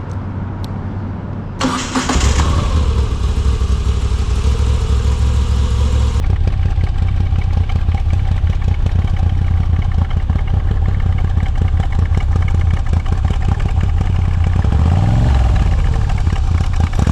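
A Moto Guzzi V85TT motorcycle engine cranks and fires up, then settles into a loud, steady close-up idle with a deep throbbing rumble and a brief rise in revs near the end.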